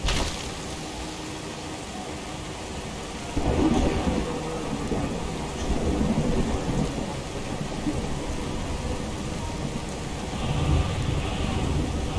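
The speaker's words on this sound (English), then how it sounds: "You're gonna have to speak up. The rain is kind of loud." Heavy rain pours steadily in the video game Skyrim, with deep thunder rumbles swelling in around the middle and again near the end, loud and close with no voices.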